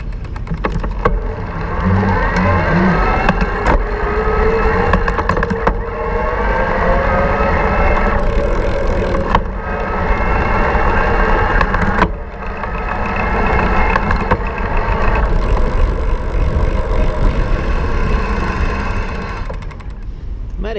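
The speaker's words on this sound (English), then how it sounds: "listen to that motor, see how shifting sounds" Fuji E-Traverse Classic+ e-bike motor running while gears shift, a loud steady whirring drone with grinding texture and a few clicks and shifts in pitch, continuous and close throughout.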